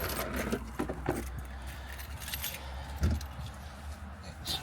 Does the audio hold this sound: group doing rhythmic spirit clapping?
no